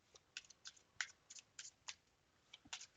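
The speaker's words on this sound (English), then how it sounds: "you can get a good riffle shuffle on it" Soft, rapid flicking and snapping of playing cards being shuffled, a quiet irregular series of crisp bursts close by.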